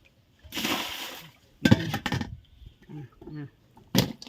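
Bought drinking water poured out while pickling sliced bamboo shoots at home, a short splashing gush followed by further brief pours, with someone talking between them.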